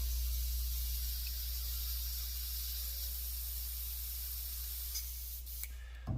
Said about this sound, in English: right now I'm just cleaning out my airbrush